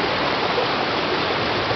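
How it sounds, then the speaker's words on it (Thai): A river rushing down from a waterfall at a resort in Kanchanaburi, a loud, even roar of flowing water filling the whole short stretch with no voices. "นี่คือแม่น้ำที่กำลังผ่านน้ำตกมา"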